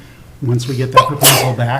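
A single sharp sneeze bursts out during a county board of commissioners meeting, close and loud, cutting across a man's ongoing speech.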